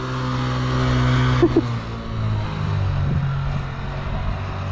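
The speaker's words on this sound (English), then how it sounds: "the RPM sounded a little high" A motorcycle engine runs at steady high RPM while a novice rider learns to ride, giving a sustained droning whine with slight rises and dips, heard from fairly close with no talking.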